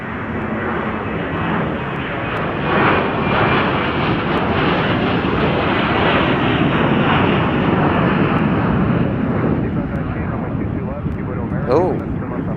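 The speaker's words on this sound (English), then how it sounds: "we've got a couple aircraft getting ready to depart for Japan" A jet aircraft departs at Chicago O'Hare airport, its engine roar loud and continuous throughout, a broad rumbling wash with radio chatter and voices mixed in beneath it.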